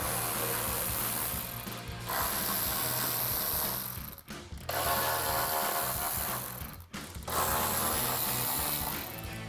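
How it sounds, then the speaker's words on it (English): Ratchet with a 10mm socket cranking nuts and bolts off a 1999-2004 Mustang's coolant reservoir and radiator support, fast continuous clicking in three long runs separated by short pauses, close and clear. "we're going to take a 10mm socket and remove the 2 nuts on our coolant reservoir"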